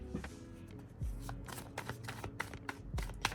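Tarot cards reshuffled by hand in a quick run of crisp riffles and slaps, close and fairly loud, with no talking over them.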